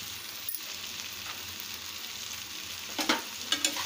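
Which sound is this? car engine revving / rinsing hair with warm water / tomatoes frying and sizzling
tomatoes frying and sizzling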